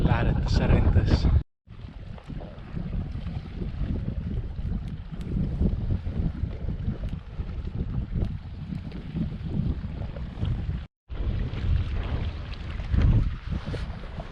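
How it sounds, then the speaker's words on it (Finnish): A warm wind blows steadily across a lake in Finnmark, roaring and buffeting against the microphone, with faint water movement beneath and two brief dropouts in the noise. "Muuten on ihan mukava tää lämmin tuuli, mutta sotkee heittämistä, kun on just tän järven suuntainen tää tuuli."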